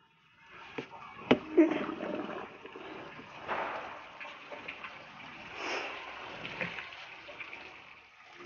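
Water drains from the opened outlet of a rooftop fish tank, a soft uneven gushing and splashing with a few sharp clicks early on, fairly faint and close throughout.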